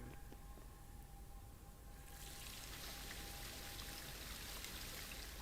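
Fountain water in the video game Punishing Gray Raven, a faint steady trickling and splashing wash that swells louder partway through and runs on continuously with no voices.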